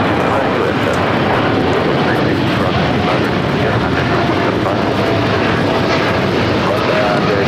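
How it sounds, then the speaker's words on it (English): An Air Canada Boeing 787-9 Dreamliner takes off from LAX bound for Toronto, a loud, broad, continuous engine roar that holds steady throughout, with faint voices underneath. "This is Air Canada 788 taking off to Toronto on the 787-9 Dreamliner"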